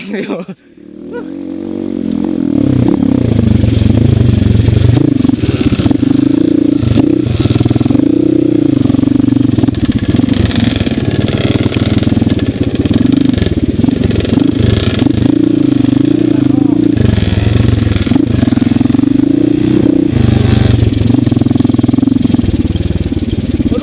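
A motorcycle labours up a steep climb toward a waterfall, its engine roaring loud and steady for over twenty seconds with varying strain, with a voice heard over it.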